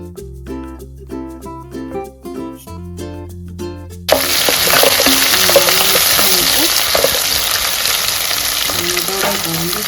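Curry leaves and onions frying in hot oil for a crab semi gravy, loud steady sizzling that bursts in after about four seconds of music and continues densely to the end.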